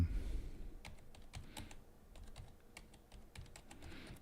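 Brisk typing on a new computer keyboard at a desk, a steady run of crisp individual key clicks with irregular spacing, close and clear over a low background hum.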